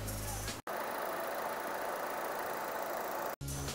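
Chevrolet Trax 1.4 turbo engine idling, a steady, even hum at moderate level with no talk over it, cut briefly near the start and end.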